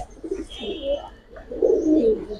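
Giribaj and other breed pigeons coo close by in a loft, soft throaty cooing phrases repeating, with faint chirps and no talking.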